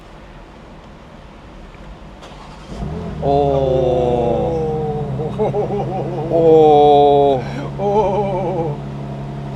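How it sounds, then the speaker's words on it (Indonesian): A BMW M2's 3.0-litre turbocharged six-cylinder engine cranks and fires up, settling into a loud, rising and falling idle with a couple of sharp revs; a person briefly exclaims. "Suara mesin 6 silinder 3000 cc turbo 460 HP-nya udah merdu dari sejak pertama kali kita pencet tombol start stop."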